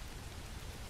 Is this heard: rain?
yes